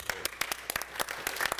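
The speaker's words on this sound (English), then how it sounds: "let's give him a big round of applause again for all he does for the kids" Scattered hand clapping from a small audience at a city commission meeting, a dozen or so sharp claps in an uneven rhythm, fairly faint and brief in a room.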